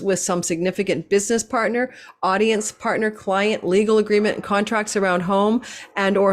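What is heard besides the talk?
No distinct noise like a dog, phone or traffic.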